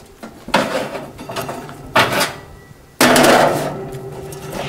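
Bread slices, buttered sides together, go into a toaster oven with three sharp metallic knocks and clatters from the rack and door, spaced about a second apart and fairly loud.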